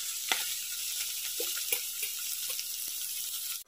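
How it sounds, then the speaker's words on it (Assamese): Mushrooms frying lightly in hot mustard oil in a wok make a continuous close sizzle, broken by short scraping stirs and small spatters. "এতিয়া ইয়াতে দি দিম মাছৰুমখিনি, আৰু মাছৰুমখিনি দি অকণমান মাছৰুমখিনি ফ্ৰাই কৰি ল'ম।"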